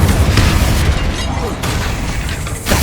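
Bombarda and Confringo spell blasts in Hogwarts Legacy, a run of loud, heavy booms and bursts layered over game ambience, with a fresh impact near the end and voices mixed in.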